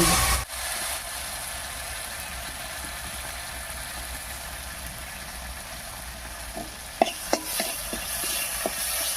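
Ground spice masala with turmeric and salt being sautéed in oil with a splash of water for a tangra fish curry, a steady soft sizzle and bubbling with a few sharp clinks of a stirring spoon near the end.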